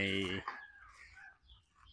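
A black fighting cock of the Bhurengnong line gives a short, loud crow that cuts off after half a second, followed by faint background noise.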